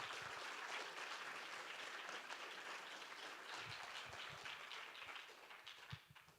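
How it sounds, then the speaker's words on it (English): A forum audience applauds after a keynote fireside chat, a continuous, fairly distant and quiet patter of many hands that thins out and fades toward the end. "So, round of applause."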